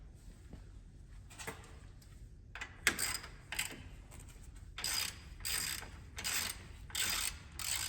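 A wrench ratchets as an 8mm 12-point bolt with red Loctite is torqued to 22 foot-pounds on a Polaris RZR Pro R during a rebuild, giving repeated clicking bursts that grow louder and more regular toward the end.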